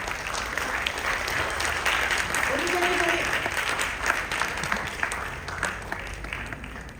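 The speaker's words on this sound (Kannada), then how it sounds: "ಜೋರಾಗಿ ಚಪ್ಪಾಳೆ ಬರಲಿ" Steady applause from an audience at a Kannada community kids' skit event in Singapore, sustained and dense throughout, with a faint voice briefly audible beneath.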